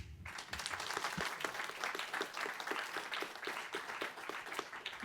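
An audience at a university town hall on the next UM president applauds the panelists, a sustained, even patter of many hands clapping, moderately distant and steady for several seconds.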